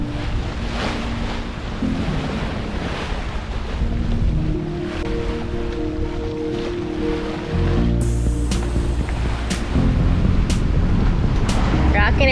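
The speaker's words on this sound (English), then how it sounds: "It's so nice when we actually get it on a nice lean and we cut through the waves properly." A heeled-over sailboat cuts through ocean waves, with a continuous rushing wash of water and wind noise close by and a hull thump or two, while people talk faintly underneath.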